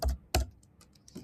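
Typing on a computer keyboard, with two firm keystrokes followed by a few lighter taps, all close and clear.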